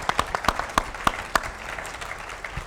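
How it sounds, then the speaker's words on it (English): A small audience claps for the speaker's mother in a series of sparse, distinct nearby claps that start strong and thin out, with no talking. "Let's give her a round of applause."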